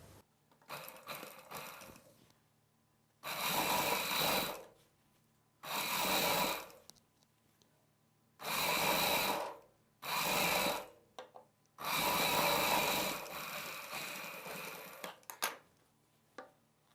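A sewing machine stitches fabric pieces together for a puff sleeve design in repeated bursts of rapid whirring, each lasting one to two seconds with quiet gaps between, close and clear with no talk.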